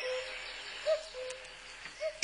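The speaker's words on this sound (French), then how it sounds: "C'est le coucou." A common cuckoo calls from woodland, two brief soft hooting notes spaced about a second apart, moderately distant over a quiet hiss of background ambience.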